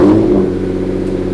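A Lamborghini Diablo SV engine caught just after starting, a loud close rumble that settles quickly from a brief rev into a steady deep idle, heard alone.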